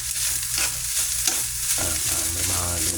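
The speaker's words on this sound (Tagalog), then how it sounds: "para mahalo yung ginis sa mix dito sa kanin" A sautéed mix being stirred into rice in a hot pan, with steady frying sizzle and a spatula scraping repeatedly through the food, close and continuous.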